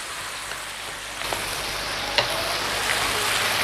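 A beef and potato empanada filling fries in a pan with a constant close sizzle, broken by a few sharp pops and clicks of the pan or utensil, and no voices.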